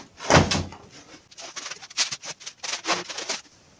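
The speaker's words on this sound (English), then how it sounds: "This door opens both ways." A food dehydrator door is handled nearby, giving a firm knock followed by a string of smaller rattles, clacks and bumps, moderately loud with no talk.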